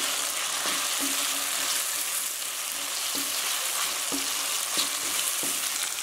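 Capsicum pieces fry in a pan for corn manchurian: a dense, constant sizzling hiss close by, with faint regular taps and scrapes of stirring underneath.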